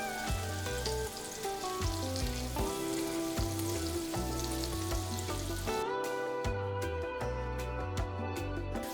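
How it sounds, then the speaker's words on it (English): Mackerel fillets frying in a pan for coconut sauce give a continuous bright sizzle that runs under steady background music. "we're not fully frying them, just getting them started here."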